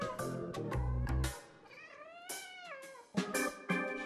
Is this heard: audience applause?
no